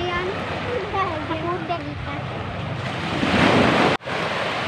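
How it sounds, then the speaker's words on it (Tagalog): Large sea waves rolling onto a beach in Bataan after bad weather, a loud, continuous roar of surf that swells louder toward the end, with wind buffeting the microphone and a person talking early on. "Ang lalaki ng alon dito"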